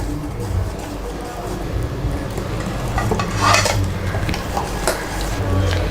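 Green gram dosa batter with coriander being stirred in a bowl, a soft wet churning and scraping under steady background noise, with a few louder spoon clinks midway.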